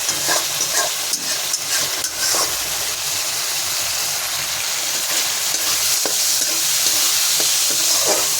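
Mango pieces sautéing in a pan give a steady broad sizzle with occasional scrapes of stirring, close and fairly loud throughout, with no one talking.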